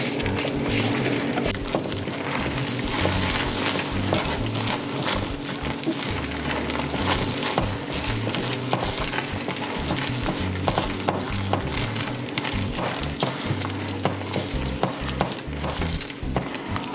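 Quinoa and peanuts fry and get stirred for a brittle, giving a steady, loud, dense sizzle with constant spoon scraping throughout, with no talking.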